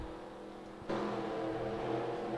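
Race cars roaring past in NASCAR Racing 2003, a steady engine drone that jumps suddenly louder as another car swings in close, then holds a loud sustained whine.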